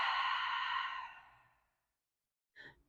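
A long, airy exhale during a Pilates mat core workout, loud at first and fading out over about a second and a half, followed by a short faint breath after a pause.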